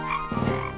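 A frog in a video game gives a short, close croak, a brief buzzy burst less than a second long.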